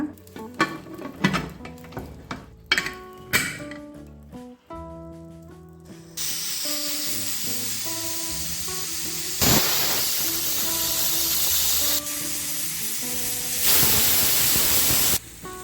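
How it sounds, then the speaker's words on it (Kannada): A pressure cooker holding cluster beans pulao whistles and then lets out a loud, continuous steam hiss that surges in waves, following a few sharp metallic clinks and stirring sounds. "ಈಗ ಎರಡು ವಿಷಲ್ ಆಗಿದೆ"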